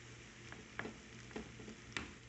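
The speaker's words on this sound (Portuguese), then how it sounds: "Agora eu vou pegar o arroz com cenoura e vou misturar aqui nesse mexidinho que eu fiz com bacon e os ovos." Spoon stirring carrot rice into a bacon and egg scramble in a pan, with a soft continuous sizzle and a few light scrapes and clinks at irregular intervals.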